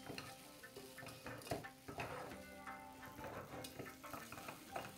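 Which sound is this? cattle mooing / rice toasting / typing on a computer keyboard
rice toasting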